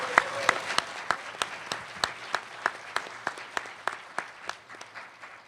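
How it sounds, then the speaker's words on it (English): Audience of about 400 at a public debate applauding the debaters, a steady wash of many hands clapping with sharp individual claps standing out, moderately close and continuing throughout without speech. "Could you join me one more time in giving them a big round of applause for their efforts here tonight?"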